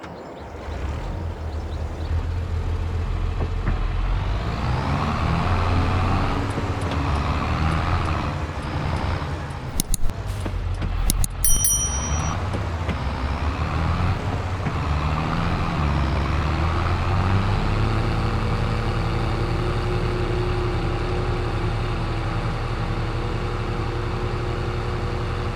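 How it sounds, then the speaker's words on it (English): A Massey Ferguson tractor engine in Farming Simulator 22 drones steadily for a long stretch, loud and close, with brief clanks partway through and the pitch shifting lower near the end. "I'm going to use my Massey Ferguson tractor for the weeder."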